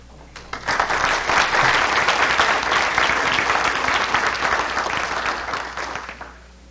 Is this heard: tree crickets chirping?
no